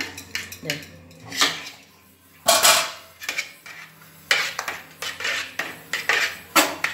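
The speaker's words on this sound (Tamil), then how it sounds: "இதுமாரி ஒரு கரண்டி வச்சு இப்படி தேய்ச்சி விட்ருங்க." A ladle scraping and tapping as it spreads rice batter for vathal, a series of irregular metallic clinks and scrapes with brief pauses between strokes, close up.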